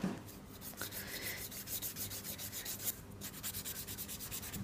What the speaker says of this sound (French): Donc je retourne ma lime pour avoir l'autre grain.